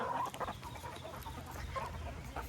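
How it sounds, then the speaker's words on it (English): Backyard chickens and a rooster cluck and murmur nearby in a steady, overlapping chatter, quiet but continuous throughout, with no talking. "I don't want my hand close to the rooster."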